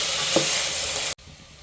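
Vegetables sizzling and being stirred in a hot pan for mint pulao, a steady close frying hiss with a brief scrape of stirring, cutting off abruptly near the end.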